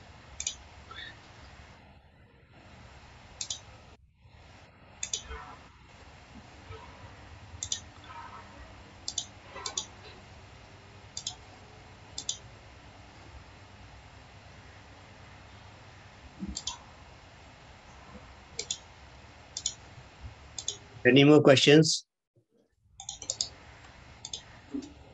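Quiet clicks from a computer keyboard during a webinar, sparse isolated taps spread across the stretch with one louder burst near the end and a brief question spoken once.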